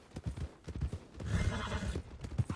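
Horse hooves clip-clop in irregular bursts, joined midway by a loud, drawn-out whinny, from a horse in a Red Dead Redemption 2 town scene near the stables; no talking.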